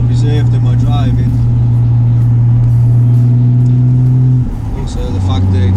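Loud, steady drone of an over-fueled Ford Capri engine under way, holding a constant pitch then shifting as it changes gear, with brief voices in the car over the engine.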